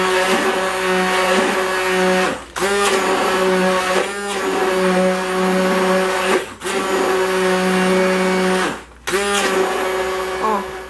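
A kitchen mixer runs while blending sauce, a loud, steady motor whine broken by three short pauses, with no voices over it.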